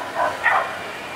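Two quick, high yipping barks from a small dog, fairly near, over a steady background hum.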